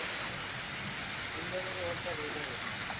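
Rain falls steadily over villages near Upleta during a cyclone, a dense even hiss throughout with a faint tonal sound partway through.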